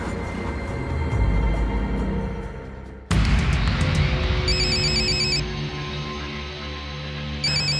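A mobile phone ringtone chirps in repeated electronic trills over a tense background music bed, sounding in regular bursts after an abrupt scene change.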